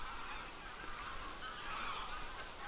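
Geese honk faintly at a distance in a loose, ongoing chorus of nasal calls, with no clear voices over it.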